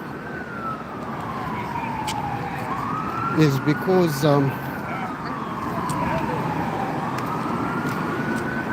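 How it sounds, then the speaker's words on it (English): An ambulance siren wails near a hospital on a New York street, its slow rising and falling tone sweeping steadily through the whole stretch at moderate distance, with someone briefly talking over it midway. "So why you hear ambulances over here"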